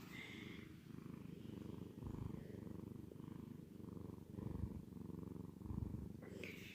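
A house cat purrs steadily and close up, with a soft, rhythmic rumble that swells on each breath. Nobody talks.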